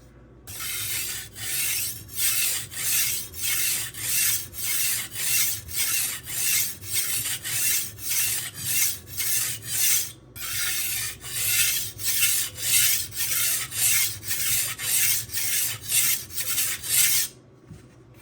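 Steel knife blade rubbed back and forth on a Suehiro Debado 600 grit whetstone to cut off the burr, a steady run of close, even rasping strokes with one brief pause and no talk.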